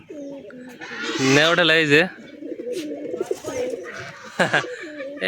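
Pigeons cooing in a pigeon coop at a village homestead, deep throaty warbling coos close by, mixed with people talking and other scattered bird calls.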